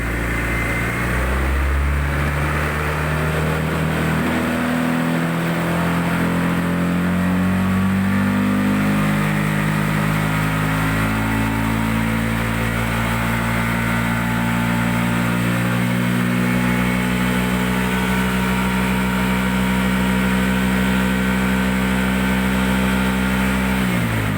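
A Honda Scoopy PGM-FI scooter engine is revved hard and held at speed, loud and close, its pitch climbing and falling through several throttle changes before settling into a steady high whine.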